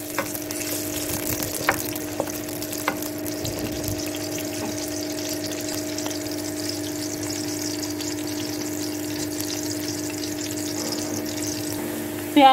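Onions fry steadily in a kadhai with a continuous soft sizzle under a constant background hum. A few faint clicks of stirring come early on, and there is no talking.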